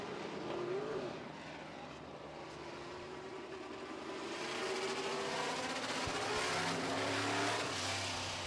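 A modified race car engine fires up at a dirt track heat, a droning roar that swells and builds louder in the second half, with a distant engine hum underneath and no talk.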